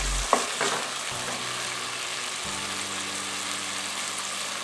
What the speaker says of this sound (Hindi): अब हम इसमें डालेंगे कटी हुई गाजर।